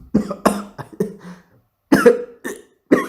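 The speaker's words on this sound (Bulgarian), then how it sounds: "от кашлицата съм зле" Harsh, repeated coughing from one person, a close cluster of rough bursts, then a brief silence and two more coughs, with no talk over them.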